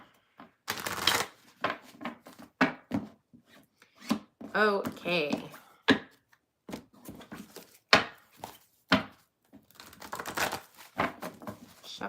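A deck of tarot cards with one ripped card that keeps catching is shuffled in quick, crisp riffles and rustles, close and intermittent, with a voice speaking briefly between bursts.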